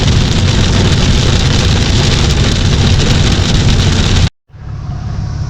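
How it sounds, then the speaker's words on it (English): Big raindrops pour down in a dense, loud, steady hiss during a storm aboard a Lowe SS210 tritoon boat on a lake, then cut off abruptly near the end before a quieter wash of rain resumes. "Those are big raindrops."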